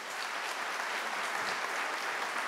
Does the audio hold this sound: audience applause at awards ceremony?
yes